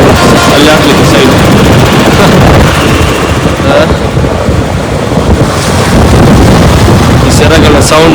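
Strong wind buffets the microphone at a secret beach near Mangalore, with sea waves rushing and surging underneath in a loud, continuous roar.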